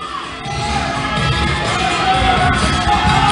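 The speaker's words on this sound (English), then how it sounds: "The crowd is going wild" The audience at the 2020 Olympia bodybuilding contest roars and cheers in a dense, continuous wall of yells and whoops that swells slightly over a few seconds.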